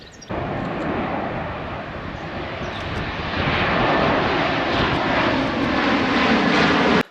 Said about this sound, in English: We've already had a few come over, but you're going to see plenty of planes all this weekend